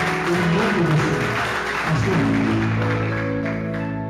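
A church congregation applauds during a worship service, steady close clapping running throughout with a sustained musical tone and murmur of voices underneath.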